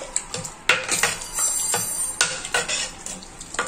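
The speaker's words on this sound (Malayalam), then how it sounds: "നല്ലോണം ഇളക്കി" Food being stirred in a cooking pot for a tangy Kerala curry with tamarind and dal, with repeated close scraping strokes of a spoon over a soft sizzling bed, no talking.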